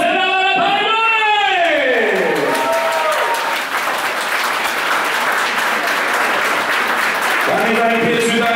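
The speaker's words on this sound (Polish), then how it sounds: "Gorące brawa, panie Mary!" Applause at a wedding reception, loud sustained clapping from a crowd of guests, with an amplified voice and music tones heard at the start and end.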